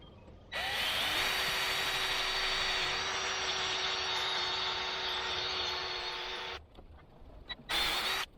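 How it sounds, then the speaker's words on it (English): A power drill bores holes for a door in an animal area, one long steady whine at close range that cuts out, followed by a brief second burst near the end. "So let's drill some holes."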